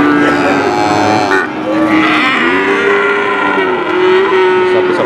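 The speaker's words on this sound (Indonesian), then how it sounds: "Sapi bibitan betina." Female breeding cattle at a livestock market in Pati bellow with long, loud moos close by, one after another, over a busy market background.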